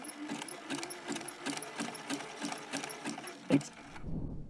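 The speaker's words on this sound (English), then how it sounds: "Here at the sewing machine, I want my zigzag stitch to go just off the edge of my fabric and then back on again" A sewing machine runs a zigzag stitch along a shirt hem, giving a rapid, evenly spaced mechanical clatter close up, then a single sharper clack before it stops.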